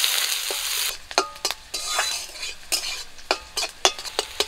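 Chopped onion and green chilli frying in hot mustard oil with panch phoron, a steady sizzle broken by sharp scrapes and clinks of a spatula against the pan.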